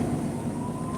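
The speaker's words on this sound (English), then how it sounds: "It was only a few seconds before sirens could be heard in the distance" Police sirens wail in the distance, a continuous wavering tone riding over a dense, steady background rumble with no voices.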